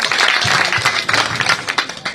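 A crowd at a village rally in Gyaspur claps loudly, a dense burst of applause that stays strong and then thins into scattered individual claps near the end.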